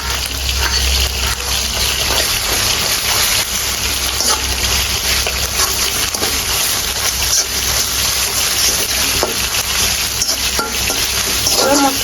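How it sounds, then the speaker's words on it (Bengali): Dried red chili paste frying in a pan of oil, a continuous close sizzle with repeated stirring scrapes of a spoon against the pan throughout. "এখন দিয়ে দেবো শুকনো মরিচ বাটা"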